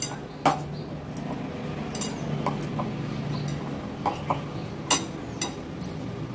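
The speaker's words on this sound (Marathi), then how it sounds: "हे इन्ग्रेडियंट्स व्यवस्थित मिक्स करून घ्यायचे आहेत।" Boiled potato aloo paratha stuffing with finely chopped coriander and salt being mixed in a bowl, giving scattered light clinks and scrapes of a utensil against the bowl over a steady low background hum.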